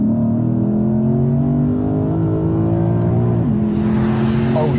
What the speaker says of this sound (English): oh yes, that is a spectacular engine